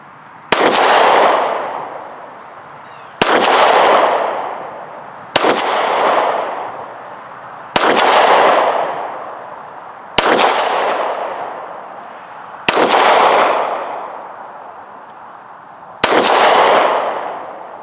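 Seven loud, sharp pistol shots from an HK VP9 fired at a target, evenly spaced about two to three seconds apart, each with a ringing outdoor decay and no talking between them.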